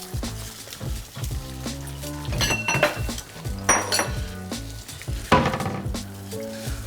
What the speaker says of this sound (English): And then we're gonna add our egg. We're just gonna scramble it.